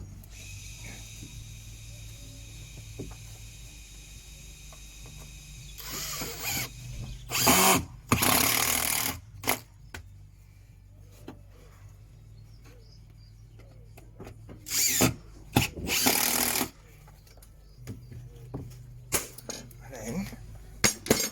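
Power drill driving screws into timber cladding boards, with two loud whirring bursts separated by quieter handling and tapping, close by.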